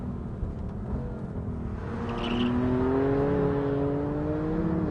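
A BMW M3 engine revs out on track laps, its steady pitch climbing smoothly over a few seconds into a loud, sustained howl with rumbling road noise beneath.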